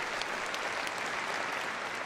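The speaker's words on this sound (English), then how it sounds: "Big round of applause," A crowd applauds at a gundog display at Crufts, a steady, somewhat distant wash of clapping that holds evenly throughout.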